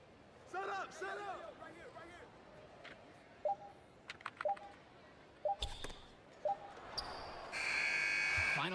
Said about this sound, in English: Final buzzer